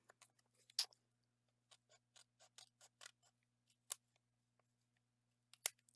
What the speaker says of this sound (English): these scissors do not do well